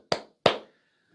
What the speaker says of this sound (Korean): 와우, 박수!